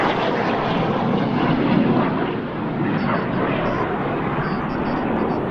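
Frecce Tricolori jets passing at an air display while performing aileron rolls, a loud continuous roar that swells and holds throughout with no break.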